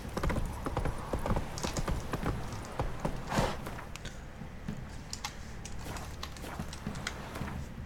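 Hooves of Roach the horse clop in a brisk, uneven rhythm in The Witcher 3 video game, loud at first, then easing into lighter, sparser steps over a quiet game ambience.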